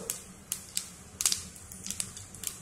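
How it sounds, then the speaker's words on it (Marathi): Mustard seeds crackle in hot oil for a dal tempering: about a dozen sharp, irregular pops and snaps, fairly faint, with no talk. "मोहरी तडतडलेली आहे।"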